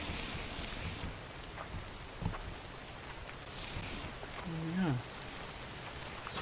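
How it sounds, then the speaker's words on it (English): Steady rain from a thunderstorm in a video game, a continuous moderate hiss with occasional faint thumps and knocks, under a voice talking. "why do we have to have a thunderstorm as well?"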